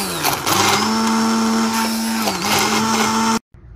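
An electric blender whirs steadily as it purees onion in a kitchen bowl, a loud continuous motor hum with a slight dip in pitch midway, before cutting off abruptly near the end.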